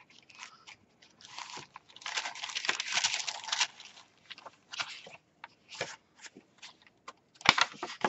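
A heavy calendar card piece being handled for a file folder journal gives close, dry rustling and scraping bursts in short irregular clusters, with no voices.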